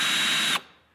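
Ryobi cordless drill running at full speed with a bright, high whine, then cutting off abruptly and winding down into quiet within about a second.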